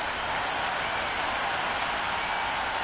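A dense, steady wash of cricket crowd noise fills the stands before an IPL match between RR and CSK, broad cheering and applause roaring continuously at an even, loud level without a break.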